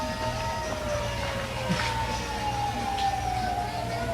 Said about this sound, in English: Sounds like sirens.